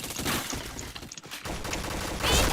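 Gunshots in a shooter video game, a quick loud flurry of shots and crackling impacts in a busy game mix, briefly dipping before a final burst.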